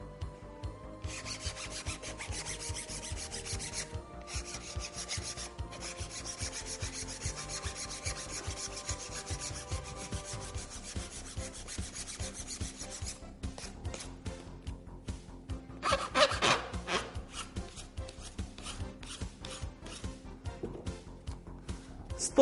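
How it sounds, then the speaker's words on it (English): Sanding away leftover tape residue on a chipped plastic wheel cover during a Q-Bond repair, a steady close rubbing and rasping scrape that continues for the whole stretch, with a short louder burst of strokes near the end. "We can sand it off."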